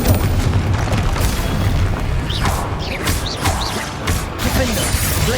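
A Confringo blasting curse from the Hogwarts Legacy video game explodes as a loud booming blast, with several sharp crackling bursts and rumbling debris over a few seconds of dense, chaotic combat noise.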